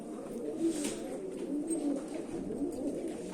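Pigeons or doves cooing in a coop, a steady run of soft, low rolling coos close by with no talking over them.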